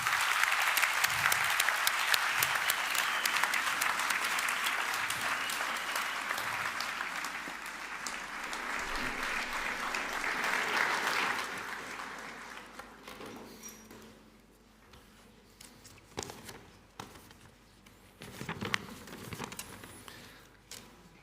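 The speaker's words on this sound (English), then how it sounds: "So a big round of applause for Carlo Hansen." Audience applause for Carlo Hansen at a national young scientists contest, a dense, loud wash of clapping for about eleven seconds that fades into quieter room noise with a few scattered claps afterward.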